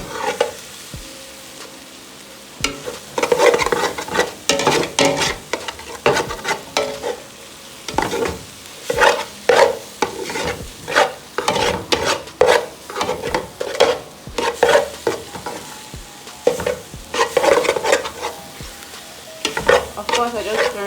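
Egg sauce being stirred and fried in a pan at home, with a steady sizzle under repeated close scraping and stirring strokes throughout, no talk.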